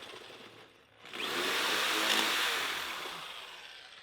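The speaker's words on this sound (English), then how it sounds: "So this is my hammer drill. I got it set to hammer." A hammer drill with a 3/16-inch bit grinds steadily into cracked stucco over concrete, a loud, harsh, continuous rattle that starts after a brief pause and runs to the end.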